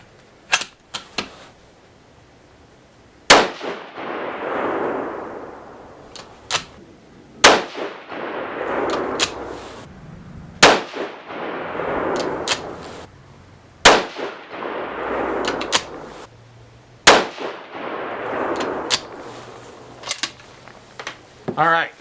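6mm ARC rifle shots fired during load development with a Labradar chronograph, several loud sharp cracks spaced a few seconds apart, each followed by a ringing decay, with brief voices in between.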